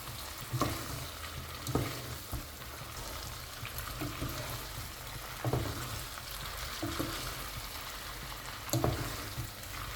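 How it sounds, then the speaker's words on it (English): Fried plantain is stirred into a sizzling gizzard sauce in a pan during a Nigerian gizdodo recipe. Steady close frying crackle runs throughout, broken by repeated scraping stirs every second or two, with no talking. "I'll be adding in the fried plantain now."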